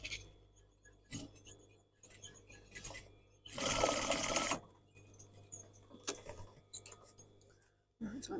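Sewing machine stitching a tassel onto a pair of jeans, back-tacking over pink stitching in one louder sustained run among brief quieter bursts and handling noise, close and soft.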